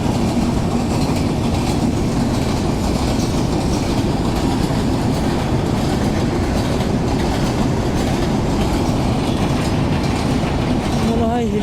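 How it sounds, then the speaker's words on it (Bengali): A Bangladeshi train rolls past close by near Hili station, a loud, continuous rumble with clattering wheels and a brief metallic squeal near the end. "এই বাংলাদেশি ট্রেন।"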